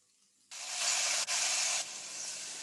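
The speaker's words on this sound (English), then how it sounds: "Nice sizzle." Food hitting a very hot, smoking pan sets off a sudden loud, close sizzle that holds steady, briefly dips, then eases to a softer hiss.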